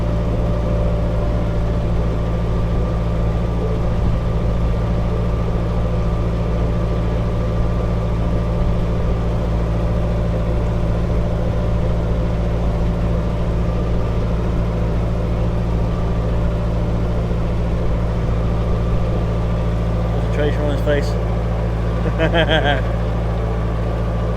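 A canal boat's engine runs steadily throughout, a continuous low droning hum with an even throb that stays loud and close. Faint, brief higher sounds come near the end.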